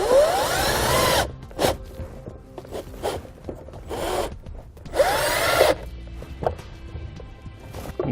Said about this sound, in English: We're going to use a 1/4-inch socket to mount that screw in there.